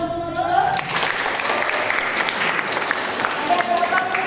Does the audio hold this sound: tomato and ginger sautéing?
no